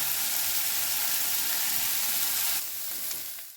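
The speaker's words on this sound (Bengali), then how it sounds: "আমি এখন এইভাবে ভেজে শুকনো শুকনো করে নেব।" Bean flowers fry in hot oil until dry, giving a dense, steady sizzle that fills the whole stretch and then eases slightly near the end.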